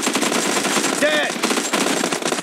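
Rapid automatic gunfire from a PUBG team deathmatch round, loud dense bursts filling the whole clip with brief pauses, a whistling ricochet-like tone in the middle.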